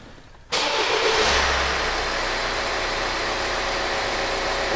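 A Hyundai Santa Fe engine fires up abruptly and settles into a steady idle, a loud, even hum that holds constant after a brief initial surge.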